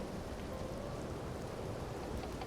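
Steady rain hisses through a storm in a role-play video game, an even, continuous wash with no talking and no clear thunderclap standing out.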